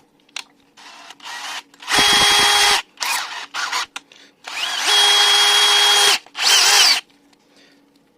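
A DeWalt DCD791 cordless drill-driver, type 3, spins up in several short bursts with brief pauses, its high motor whine near and loud, with quieter handling clicks between runs and no talk.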